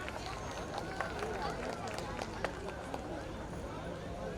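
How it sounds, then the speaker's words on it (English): Round of applause for tiny tots at a school annual function, a quiet, continuous patter of many hands from a crowd, with voices talking over it throughout. "please give a huge round of applause to these tiny tots"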